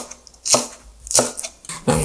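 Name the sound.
thinly slicing halved vegetable with knife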